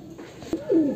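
A single breeding flying pigeon gives one short, low, throaty coo up close after a faint click, heard alone over quiet room noise.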